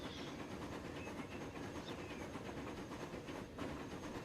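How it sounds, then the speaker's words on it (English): Train in the Transport Fever video game slowing as it pulls into a station, a quiet steady rolling rumble with faint hiss and high squeal traces, no voices. "I like the train slowing down coming into the station"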